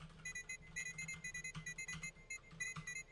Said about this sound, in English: So when you type, it makes all this noise.